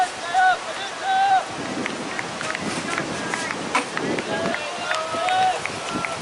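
Gusty wind buffets the microphone at an outdoor grade cricket grand final, a loud broadband rush that swells and fades throughout while a commentator talks over it.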